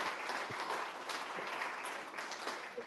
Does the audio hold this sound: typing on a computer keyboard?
no